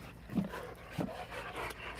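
A dog pants close by in quick, uneven breaths with a few soft huffs, moderately quiet and heard alone.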